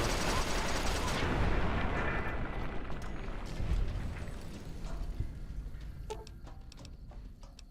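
Gunfire in the Fallout: New Vegas game, a dense, loud barrage of rapid shots and blasts that gradually thins out into scattered sharp cracks and impacts.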